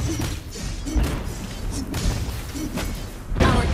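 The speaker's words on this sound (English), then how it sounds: "Turret has been destroyed." Crashing, thudding destruction of a turret in a League of Legends-style online battle game, with whooshes and heavy impacts layered over busy game effects, moderately loud and dense throughout.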